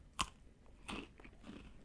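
Close biting into a crunchy peanut butter pretzel stick: one sharp crack, then a few quieter crunching chews, faint and intimate with no talk.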